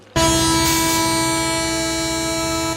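A train sounds a loud, sustained horn at a station in a Telugu film scene. The blast cuts in abruptly and holds steady over a low rumble of the train, with no talking.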